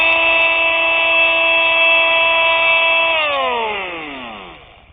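A Bosch Multitool 250 fitted with a sanding attachment hums steadily at full speed for about three seconds, then is switched off and winds down, its tone sliding lower as the motor spins to a stop.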